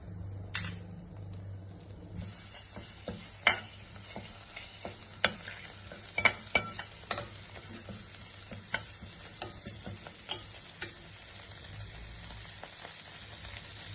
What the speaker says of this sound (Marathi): तेल तापला की फोडणीचं सामान घालायचा. हिंग, राई, जिरा आणि कढीपत्ता.